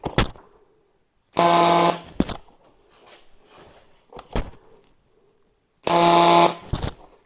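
Tack welding on 2-inch aluminum with 3/64 wire gives two loud buzzing bursts of roughly half a second each, separated by quieter clatter and handling noises.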